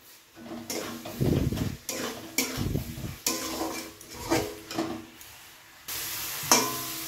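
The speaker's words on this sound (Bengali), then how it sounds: "সব একসঙ্গে দিয়ে ভালো করে এটাকে কষাবো" Spices being sautéed with jackfruit and shrimp in a pan, with a soft frying sizzle under repeated scraping and stirring strokes of a spatula against metal, close and fairly quiet.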